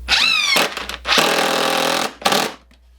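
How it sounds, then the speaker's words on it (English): A power drill drives screws down from the top into 2x4 boards, two loud bursts of a whining motor that winds up and stops, with a short, higher-pitched rev at the start. "or you could just do some screws from the top, and that's what I'm going to do"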